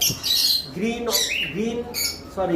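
A green Fischer's lovebird in a cage gives loud, close, repeated shrill squawks with chirpy rising and falling calls over about two and a half seconds.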